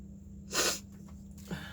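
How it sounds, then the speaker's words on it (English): A single sharp sneeze bursts out near the microphone, followed by a quiet breath, over a steady low hum. "Makes me sneeze."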